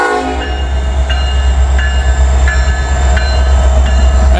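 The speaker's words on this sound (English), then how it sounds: "Two locomotives on this guy here." A train pulled by two locomotives passes close by, a loud, steady rumble and rolling of cars with repeated horn blasts over the top.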